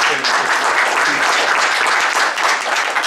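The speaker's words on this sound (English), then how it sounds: "Please, round of applause to Elena." Audience applause after a speaker at an academic panel session on Eurasia, a full, steady round of clapping that holds evenly throughout with no speech on top.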